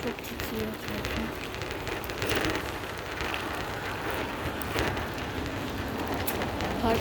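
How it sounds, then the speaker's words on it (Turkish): Heavy rain pours steadily outdoors, a dense, continuous hiss with no breaks, close and fairly loud throughout, with no voices. "Arkadaşlar bayağı büyük bir yağmur var."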